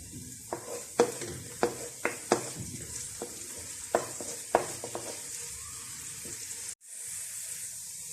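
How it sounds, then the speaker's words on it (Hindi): Chopped green onion tops frying in oil in a pot for chicken chowmein, a steady close sizzle broken by a series of sharp clattering stirs at irregular intervals, ending abruptly. "इसको हम हल्का सा फ्राई करेंगे।"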